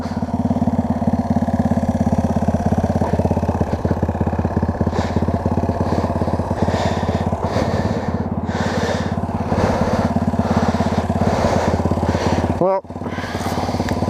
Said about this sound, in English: She's idling pretty good. It's a Giovanni 125cc.